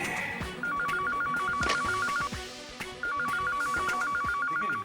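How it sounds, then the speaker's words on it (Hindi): A telephone bell rings in two long trilling bursts separated by a short pause, clear and close, with faint background clatter. "बेल तो बज रही है।"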